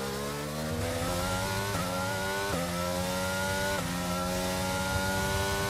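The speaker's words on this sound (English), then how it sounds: "He's got his engine turned up to the max, so not much he can do" A Formula 1 car's engine screams in the racing game F1 22, its high, loud whine climbing steadily and dropping back with each quick upshift, several times in a row, with no voices.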